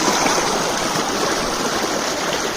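Water gushes steadily from a pipe and runs toward a pond, a loud, close, continuous rushing flow with no pauses and no talking.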